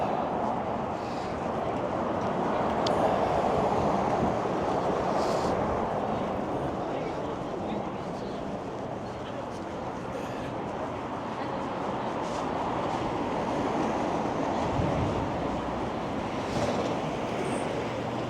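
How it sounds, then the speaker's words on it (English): Cold winter wind blows along Bloor Street in Toronto on a Sunday, a broad rushing roar that swells and eases over mixed city noise, without clear talk. "On a cold, windy, winter-like Sunday."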